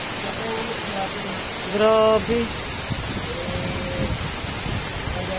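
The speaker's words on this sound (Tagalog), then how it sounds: "Ayaw tumigil ng ulan." Heavy rain pours steadily during a flood, a dense close hiss with a few short spoken remarks over it.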